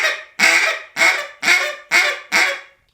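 A duck call is blown in five evenly spaced, loud, close honking notes, each cutting off sharply before the next, with no talking.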